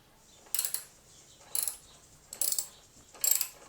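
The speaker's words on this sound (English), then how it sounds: "10mm socket fits it real good." Ratchet wrench with a 10mm socket working on a bolt while fitting a direct shifter to a Yamaha Warrior ATV, four quick bursts of close clicking ratcheting at an even pace.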